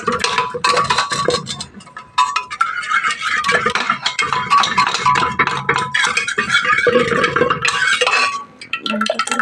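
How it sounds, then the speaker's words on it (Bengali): Dal being stirred in a pot after a garlic tempering, with a spoon scraping and clinking against the metal in busy, continuous strokes, loud and close, briefly pausing near the end. "ভালো করে ঘেটে নিলাম রসুন ফোড়ন দিয়ে আজকে ডাল করবো"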